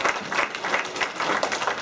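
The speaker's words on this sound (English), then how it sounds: "Applause for the King of Garbage." A theater crowd gives a quick burst of applause, many hands clapping in a dense, even patter that lasts a couple of seconds.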